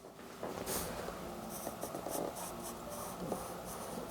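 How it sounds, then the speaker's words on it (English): A B pencil scratches across sketchbook paper while drawing tree branches, quick close strokes in short bursts, quiet and alone. "I'm going to go back to my B pencil"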